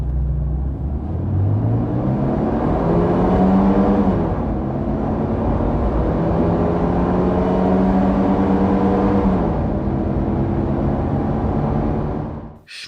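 A Mercedes W124 car during a speed run, its engine droning steadily as it climbs through the gears in two long pulls, pitch rising then dropping at each shift, with road rumble underneath and no voices.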